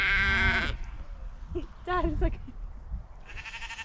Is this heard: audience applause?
no